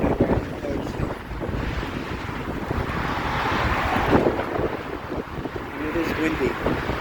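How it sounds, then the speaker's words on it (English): Strong wind roars and buffets against the microphone during a bike ride through the woods on Long Island, a loud continuous rushing with gusts, and a voice speaks faintly underneath at times. "A very strong wind."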